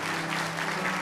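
Church congregation applauding during a Sunday service, a brief, moderately loud burst of many hands clapping with a steady hum underneath.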